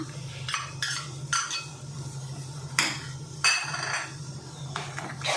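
Eggs mixed with chicken gravy are beaten in a bowl for a curry omelette, giving short, quiet bursts of clinking and scraping that come in irregular strokes over a low background hum.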